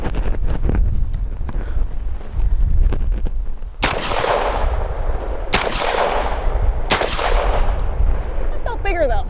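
A Genesis Arms Gen-12 AR-10-style 12-gauge shotgun fires Fiocchi number 5 shot loads outdoors, with three loud booming blasts a second or so apart over steady wind noise, each followed by a long rolling echo.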